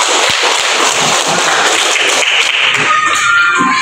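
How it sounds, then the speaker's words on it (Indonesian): Children in a primary school classroom burst into a brisk round of clapping, many hands at once, loud and continuous before it begins to thin out near the end. "Tepuk tangan dulu sebelumnya untuk kita semua."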